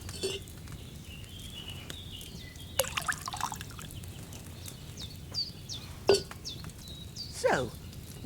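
Wine pours into a cauldron in Kingdom Come: Deliverance II, faint trickling and dripping liquid with a few brighter splashes and clinks standing out against a quiet background.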